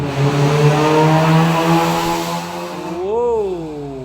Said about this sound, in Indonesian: Ada mobil lewat dengan suara knalpot yang ebring banget.